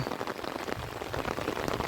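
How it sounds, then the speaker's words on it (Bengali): Continuous rain falls during a flood in a village area, a dense steady patter of drops on surfaces that stays close and even throughout with no voices. "যেদিকে তাকাল যায় সেদিকে পানি আর অনবরত বৃষ্টি"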